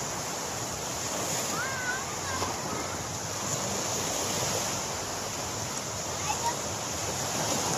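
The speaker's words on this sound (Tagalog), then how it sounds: "alon, yung agos ng alon. Sobrang sarap sa tenga." Ocean waves wash steadily onto the beach at Station 1 in Boracay at sunset, a continuous broad rushing surf with some wind over the microphone and faint distant voices.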